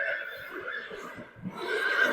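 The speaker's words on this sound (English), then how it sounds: "horses call out to each other. That's her friend that just called out" A paint horse in a barn setting calls out to another horse with a loud, close whinny that rises and trembles before fading, followed by a second brighter neigh.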